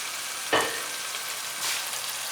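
Foli fish frying in a pan of hot oil, a quiet steady sizzle with a sharp burst of spitting near the start and a second flare later, no voices.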